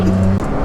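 A brief, loud, close burst of the naturally aspirated engine of a Ferrari Enzo, a steady low drone that shifts slightly partway through.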